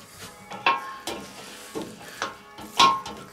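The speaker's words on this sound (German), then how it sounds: "lass den Butterschmalz schmelzen und brate es hier jetzt einfach mal an" Meat searing in melted clarified butter in a kettle over a cooking fire, with soft sizzling under a few sharp scraping and clinking stirs at irregular intervals, close up and without voices.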